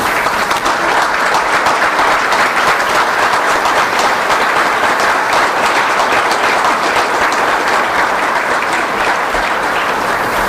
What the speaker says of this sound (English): please stand up and get a round of applause